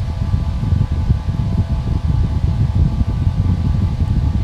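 An old metal electric fan runs at full speed, giving a steady, loud whooshing drone with a low rumbling hum that holds constant throughout, with no talking.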